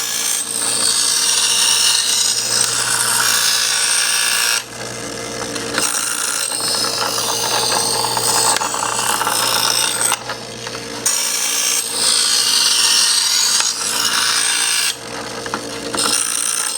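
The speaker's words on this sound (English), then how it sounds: "So let's give it a couple swipes with the number 2 side" EdgeCraft Diamond Hone knife sharpener, fine number 2 side, rasping steadily as a blade is drawn through in repeated swipes. The scraping is loud and near, with brief pauses between strokes and no talk.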